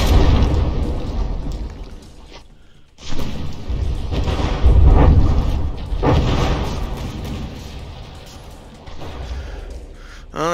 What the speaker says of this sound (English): the APS gun managed to fire 2 shells